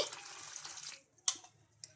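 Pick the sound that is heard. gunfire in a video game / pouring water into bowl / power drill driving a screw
pouring water into bowl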